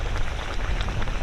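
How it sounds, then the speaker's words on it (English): Hot spring water bubbling steadily at a Japanese onsen with bright yellow mineral water, a dense continuous gurgling wash that stays close and even throughout. "Hear this? It's just bubbling."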